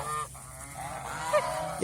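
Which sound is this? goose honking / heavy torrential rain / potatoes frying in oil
goose honking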